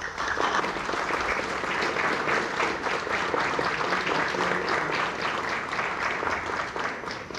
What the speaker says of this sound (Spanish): a quien la recibimos con un fuerte aplauso, por favor.